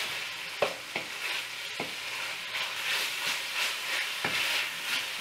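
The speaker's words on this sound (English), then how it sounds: "add a little bit more oil and fry the rest of my beef" Beef sizzles and fries in oil in a stir-fry pan, with a steady hiss broken by occasional louder crackles and spatters as the pieces are moved, close and alone without any talk.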